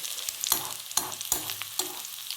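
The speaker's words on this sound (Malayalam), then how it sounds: "ചെറുതായിട്ട് ഇളക്കി കൊടുക്കണം. ഇത് വാടാൻ വേണ്ടിയിട്ടാണ് നമ്മൾ ഈ ഇളക്കുന്നത്." Vegetables are stirred in a pan as they wilt, giving close, regular scraping strokes roughly every half second over a soft background sizzle.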